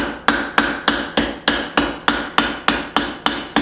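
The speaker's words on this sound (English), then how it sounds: "I'm going to come back with my ball peen and decorate this pivot up a little bit" Ball peen hammer striking a forged tong pivot made from flat bar on an anvil, twelve sharp ringing metallic blows in an even, rapid rhythm, close and loud with no talk.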